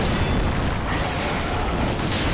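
A pyromancy fire spell in Dark Souls 3 goes off as a loud, dense burst of roaring, crackling fire noise that fills the short moment, close and sustained without a break.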